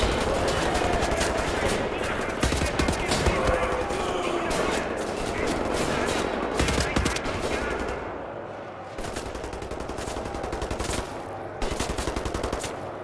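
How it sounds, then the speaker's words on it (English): A firefight in Wolfenstein: The New Order, with rapid machine-gun bursts and sharp gunshots rattling almost nonstop. The shots stay loud and close, with a brief lull partway through. "Can't see where the firefight's coming from."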